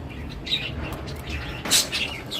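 Pet lovebirds chirp as they come to eat soft food, with a few sharp, high tweets over a low steady background and the brightest call near the end.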